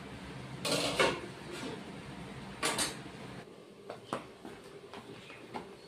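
A lid set on a pan of dahi bhindi, a couple of close metallic clanks and scrapes followed by fainter knocks and clatters in a quiet kitchen.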